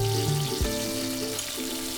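Whole spices such as coriander seeds, peppercorns, cinnamon, cloves and cardamom frying in a pan for Madras chicken curry, producing a steady, close sizzle with soft stirring scrapes and no talk.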